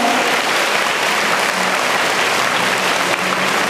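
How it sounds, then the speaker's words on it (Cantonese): A whole school's students clapping together at a farewell assembly, a dense, loud, sustained round of applause from a large crowd that continues steadily throughout. "請全校嘅同學俾掌聲，祝願高三嘅同學一路平安，一路走好。"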